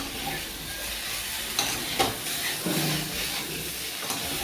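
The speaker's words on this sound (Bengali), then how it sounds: "নাড়তে নাড়তে ভাজা হয়ে গেছে।" Pointed gourd and potato pieces frying in a pan as they are stirred, a soft continuous sizzle with occasional scrapes and light knocks of the spoon, close and even throughout.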